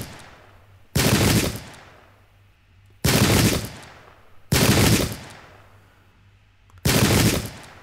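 Gunfire from the Battle of Ulundi strategy game, with four loud separate volleys of massed rifle fire spaced a second or two apart, each one crackling and then fading.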